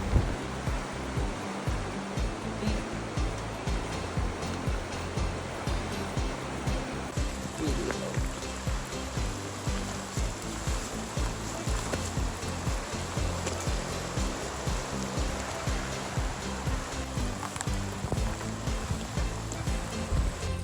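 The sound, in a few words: river flowing strongly under a suspension bridge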